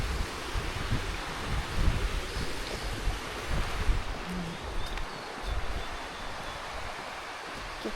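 Water pours down from above at the Budabudi waterfall on a forest hike, making a steady, dense rushing roar with gusts of wind noise across the microphone and no clear voices.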